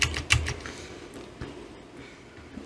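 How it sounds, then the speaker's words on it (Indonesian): A computer keyboard clatters under quick fingers, a few sharp key taps up front, then scattered lighter clicks spread across the rest, close and fairly quiet. "untuk rumusnya kita ketikkan di sini"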